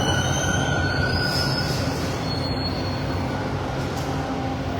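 Passenger train pulling into a station, loud and close, with sustained high-pitched wheel squeal over a dense rumbling roar of carriages braking, no voices.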